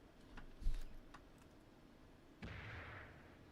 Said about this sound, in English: We got hit by an anti-tank mine